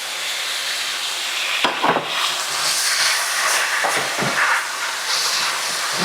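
Teriyaki sauce poured into a hot stir fry pan with the heat just turned off gives a steady close hiss and steam sizzle throughout, with a couple of brief clatters of the pan or utensil.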